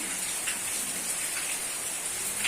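Heavy rain pours down steadily, a dense hiss of countless drops with scattered louder patters, no one speaking.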